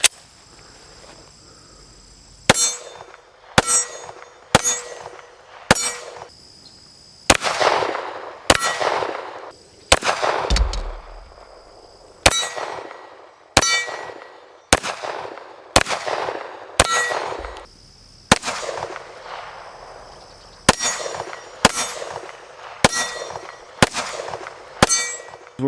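Shots from a Bear Creek Arsenal Grizzly 9mm pistol ring off a steel target at a range. Each sharp crack is followed by a metallic clang that decays slowly. Over a dozen shots come in irregular bursts, loud and close.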